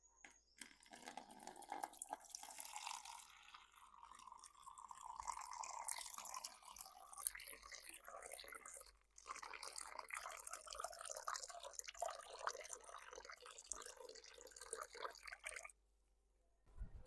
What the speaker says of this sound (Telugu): సో ఇప్పుడు నేను దీంట్లో వాటర్ అయితే పోస్తా